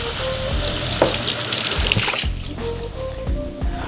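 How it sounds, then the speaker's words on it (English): Water runs from a kitchen tap over food being rinsed, a close, steady splashing stream with brief shifts as the food moves under the flow. "I'm gonna rinse this off."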